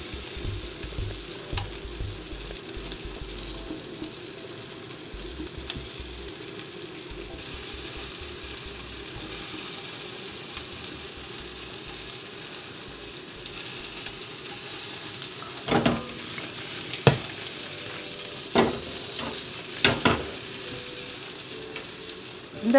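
Paneer cubes sizzle and fry in a hot pan, a steady crackling hiss with a few sharp clinks and scrapes near the end as the pieces are turned.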